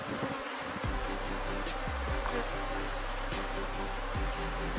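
Dense, continuous buzzing of many honeybees around a beehive, close and loud, with a few individual bees droning past.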